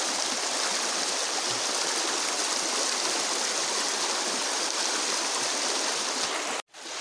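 Steady, rushing river water flows loudly and continuously at a river crossing, a dense broadband wash with no voices, cutting off abruptly near the end.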